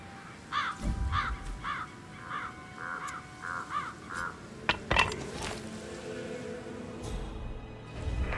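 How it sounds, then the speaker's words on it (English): Crows caw in a quick series of harsh calls in the Dartmoor level of the video game Hitman 3, followed by scattered thuds and rustling game sounds against a quiet outdoor ambience. "Damn birds. If I could just get a clear hit on those nests."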